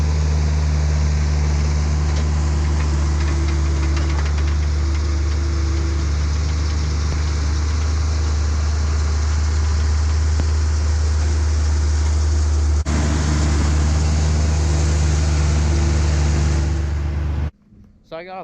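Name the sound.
tractor raking alfalfa hay in the field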